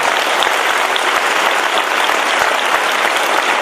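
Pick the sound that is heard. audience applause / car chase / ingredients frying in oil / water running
audience applause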